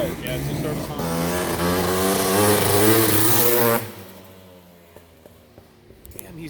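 A Honda CR500R Kaplan America Edition two-stroke motorcycle revs up hard and loud at close range, climbing in pitch for a few seconds before cutting off abruptly, leaving a quiet background with faint ticks.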